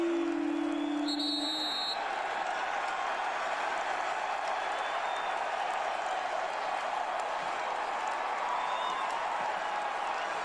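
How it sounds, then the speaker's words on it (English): A football stadium crowd at a 2013 Kansas State vs North Dakota State game roars continuously, a dense wash of cheering and clapping that holds steady and loud throughout, with a brief whistle-like tone near the start. "Clock is running and the crowd is on their feet."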